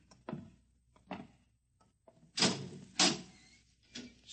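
A door in a dark silo opens in an old-time radio drama, heard as a few separate knocks and creaks followed by louder scraping pushes, close and alone with no voices.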